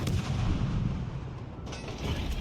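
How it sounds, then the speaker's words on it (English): The main guns of the battleship Iowa fire in the naval video game World of Warships Legends, producing a heavy, sustained broadband boom and rumble that fills the short moment. There are no voices over it. "Iowa's firing blindly into the smoke."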